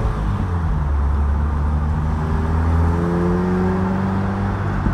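An old retro car drives through Sheffield city streets, its engine giving a steady low hum and drone with some rising rev tones, heard from inside the cabin without talk.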